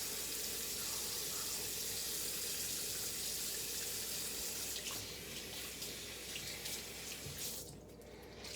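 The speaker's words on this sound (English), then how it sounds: "So the first thing I do is I wash my face with the cleanser." Tap water runs steadily into a sink for face washing with cleanser, a continuous broadband hiss that stays even throughout and thins slightly near the end, with no talking.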